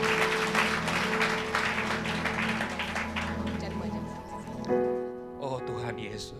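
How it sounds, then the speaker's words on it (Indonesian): A church congregation applauds God during a service, a burst of dense clapping that fades over several seconds, overlapped by voices calling out and music beginning beneath. "Kita berikan tepuk tangan buat Tuhan."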